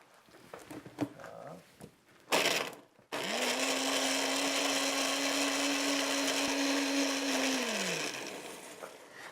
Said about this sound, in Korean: 그래서 이렇게 하셔갖고 믹서에서 갈아주세요.